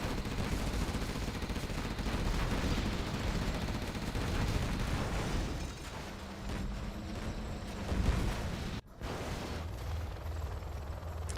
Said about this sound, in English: ExCaL with a row of Gatling cannons here as well